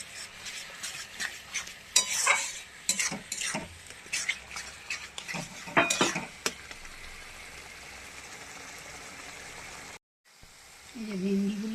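Okra is stirred and sautéed in a pan with tomato and spice paste, giving irregular scraping and clattering strokes of a utensil over a soft sizzle, then a steady quieter hiss after a brief cut.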